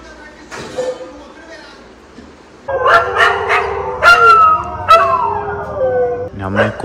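Dogs at night break into drawn-out wavering howls and a few sharp barks and yips after a quieter opening, fairly close and loud, with several animals calling over one another.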